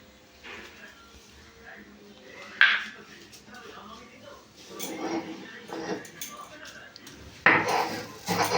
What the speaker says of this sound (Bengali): এটা বেটে নেবো আমি শিলের মধ্যে